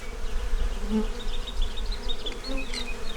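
Bees buzzing around a bee hive in a close, continuous drone, with individual insects flying past and changing pitch as they come near and move away, and no talking.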